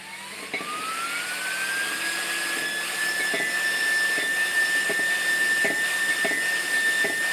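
Car radiator cooling fan spinning up to high speed, about 22,000 rpm: a loud whine that rises in pitch over the first few seconds and then holds steady under a strong airy roar, with faint periodic clicks.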